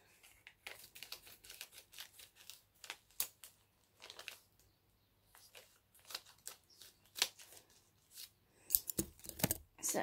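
Scissors snip and cut open a package in a quiet room, a series of short, faint crisp snips and crinkles in irregular bursts, louder rustling toward the end.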